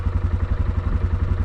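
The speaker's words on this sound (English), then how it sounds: "is a John Deere 5093E tractor. This is the newest" A John Deere 5093E tractor engine runs steadily nearby, a loud low throbbing idle with a rhythmic mechanical clatter and no voices over it.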